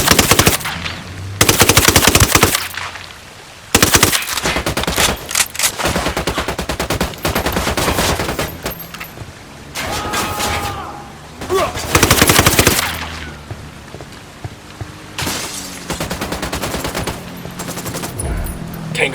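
Rapid machine-gun bursts and gunfire in a shooter video game such as Ghost Recon or Call of Duty, loud and close, coming in repeated long volleys with short pauses between them.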